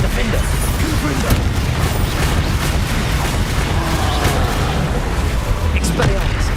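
Spell blasts in Hogwarts Legacy combat, including Bombarda and Confringo, rumbling through a dense, continuous barrage of booms and crackling impacts, with a voice calling out spell names over the din.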